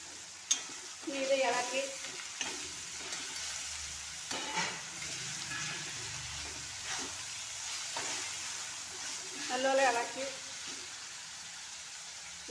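Crab curry with tomato cooking in a covered pan, a steady soft sizzle and frying hiss with occasional stirring scrapes and clatters, fairly close and moderate in volume.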